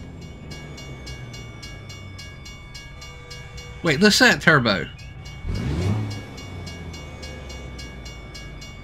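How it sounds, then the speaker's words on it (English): In American Truck Simulator, a train passes a Freightliner truck, sounding two loud horn blasts over a steady engine drone while someone talks briefly. "There's a train coming. I hear the train coming. It's coming around the bend."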